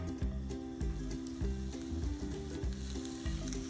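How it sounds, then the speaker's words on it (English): Cubes of pork belly rendering in a cast iron skillet, a loud continuous crackling sizzle with a rhythmic low scraping pulse from stirring, close up and without any speech. "I'm going to go ahead and put it in my cast iron skillet and let this render down"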